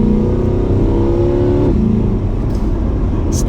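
A 2021 Chevrolet Corvette C8 3LT, mid-engine, accelerates hard with a loud, close engine roar climbing in pitch, then a gear change drops it into a rougher, deeper note.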